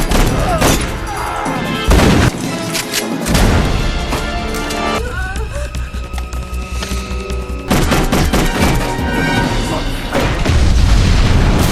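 Gunfire in a violent movie firefight: loud bursts of shots and booming impacts, with rapid volleys crowding together, a short lull, then more heavy firing and crashes.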